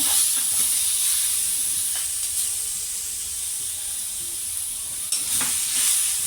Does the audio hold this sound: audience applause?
no